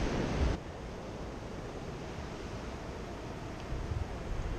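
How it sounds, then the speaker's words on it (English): Ocean waves washing onto the shore near Estoril, a soft continuous surf wash at a distance, with a brief louder wind buffet on the microphone at the start and faint swells later. "Ocean. Taste of the ocean."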